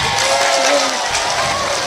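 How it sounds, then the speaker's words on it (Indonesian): Audience applause at an Islamic religious lecture on stage: a dense, continuous wash of clapping and crowd noise, with voices calling out over it. "Tepuk tangan."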